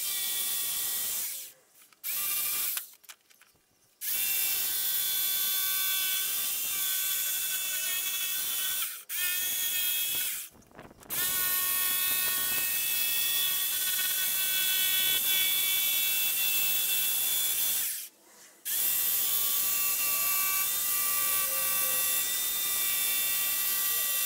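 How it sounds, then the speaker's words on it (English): Jigsaw cutting through an arcade cabinet side panel, a loud buzzing whine running in long continuous stretches, stopping briefly several times before resuming, with no talking. "I've just traced out another and I'm just about to cut it with the jigsaw."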